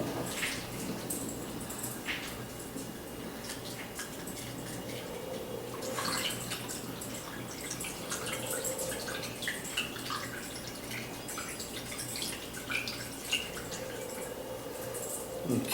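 Grape juice pours through a funnel into a jug for homemade wine, a steady close trickle and splash of liquid running for the whole stretch with small drips on top.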